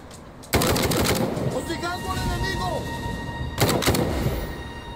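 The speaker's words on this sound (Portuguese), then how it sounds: "Algumas armas disparam múltiplas balas." Gunfire in the PC crime game Narcos: Rise of the Cartels, two loud, rapid bursts of shots, one at the start and another near the end, with fainter game sounds and a voice between them.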